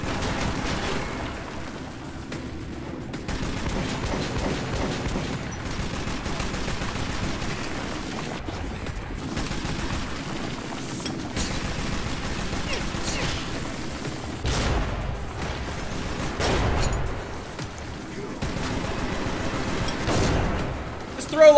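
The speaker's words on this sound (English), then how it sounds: "Who the hell is shooting me?" Gunfire in the video game Metro 2033 Redux, repeated shots and bursts crackling through a busy mix of game noise over about twenty seconds, with no clear talk.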